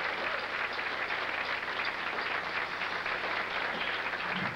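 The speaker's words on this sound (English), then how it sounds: "How about a nice round of applause for Mr." Live show audience applauding steadily, a dense wash of many hands clapping, loud and continuous throughout with no talk over it.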